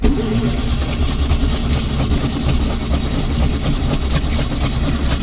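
ZAZ Zaporozhets car engine struggling to start, a loud rough cranking and sputtering churn with rapid irregular pulses, close by, without voices.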